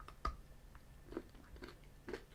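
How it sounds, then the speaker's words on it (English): Crunchy caramel chunks in a Tony's Chocolonely milk chocolate caramel sea salt bar are bitten and chewed, giving a few faint, scattered crunches and clicks in a quiet room. "You might be able to hear from the caramel chunks, the sort of solid caramel pieces."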